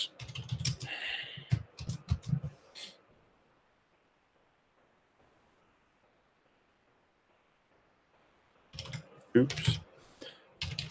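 Someone types on a computer keyboard in rapid clicking bursts at the start and again near the end, with a long quiet stretch between and a brief spoken word mixed in.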